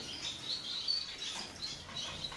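Goldfinches and Bengalese finches in a small hobby aviary chirp in quick, faint, high twittering bursts that overlap continuously, with no one talking.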